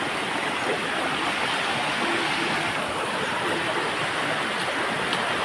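A waterfall and clear mountain stream on a trek, rushing in a steady, dense roar of flowing water that holds at an even level from start to finish.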